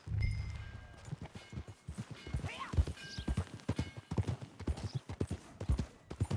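Horse hooves clip-clop in Red Dead Redemption 2, a steady trotting rhythm of distinct, fairly close hoofbeats over about six seconds, with a brief whinny-like sound near the start.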